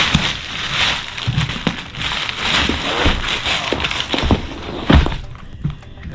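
Plastic packaging around an Earth-Pak insulated backpack cooler being ripped open by hand, a continuous crinkling, tearing rustle with scattered thumps and handling knocks, fairly close, then quieter at the end.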